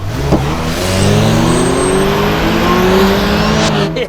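A Ferrari Mondial accelerates hard during a race, its engine note climbing steadily in pitch over about four seconds, loud and close. A second car's engine runs alongside and tires squeal faintly.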